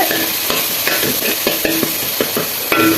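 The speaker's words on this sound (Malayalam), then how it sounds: "അങ്ങനെ നമ്മൾ ഉള്ളിയിട്ട് ഉള്ളി ഒന്ന് വാടട്ടെ" Onions sizzle steadily in a hot pan for biryani, with repeated sharp scraping and clinking strokes of a spoon stirring them at a brisk, uneven rhythm, close and loud throughout.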